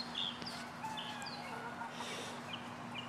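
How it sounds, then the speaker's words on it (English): A pet hen in a yard gives soft, scattered clucks and small calls, quiet and fairly close, over a low steady background hum with faint outdoor ambience. "You can pet this chicken."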